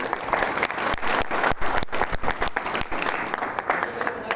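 Audience applause at a business talk, dense and sustained clapping from a crowd filling the whole stretch at steady loudness.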